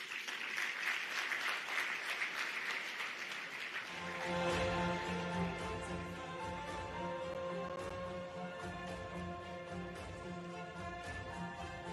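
Applause from the audience after a speech at the Afreximbank annual meetings in Abuja, Nigeria: sustained crowd clapping that gives way partway through to a steady, tonal hum and music-like background, all at moderate level.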